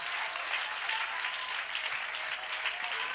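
Congregation at a Sunday church service applauding to acclaim God, a steady, dense wash of clapping from many hands that fills the whole moment without pause.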